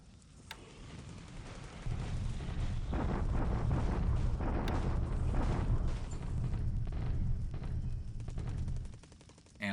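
Artillery bombardment rumbles through the strategy game War in the Pacific, a sustained, heavy roar of overlapping blasts and rapid fire that swells and holds for several seconds before fading out.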